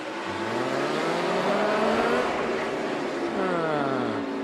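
A NASCAR race car engine at the 2014 STP 500 roars loudly and continuously, rising and falling in pitch as it accelerates and shifts while circling the track, with a second pass sweeping by near the end.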